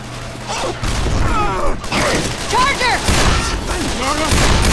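Gunfire in the Left 4 Dead zombie shooter video game rattles in loud rapid bursts and shots, with distorted game voices and creature cries mixed in.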